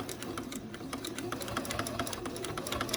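A sewing machine runs steadily while stitching through thick vintage quilt layers, with a fast, even mechanical clatter of needle strokes, close and moderately loud, no speech.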